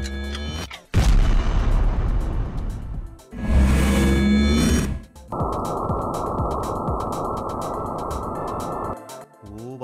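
Heavy booming impacts from a Star Platinum stand attack pounding dummies in a Roblox game: two loud bursts of rapid thudding hits, then a long steady roaring barrage of blows before an abrupt stop.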